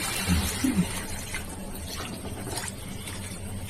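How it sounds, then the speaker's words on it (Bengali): Water poured into a pot of cooking egg curry with garlic and eggplant, a soft splashing trickle early on, followed by quiet kitchen background with faint murmur. "একটু জল দিয়ে দিচ্ছি"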